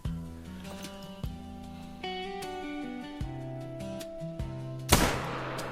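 A rifle fires at a shooting range in theHunter: Call of the Wild, with three or four sharp, separate gunshots, the last the loudest, over steady background music tones.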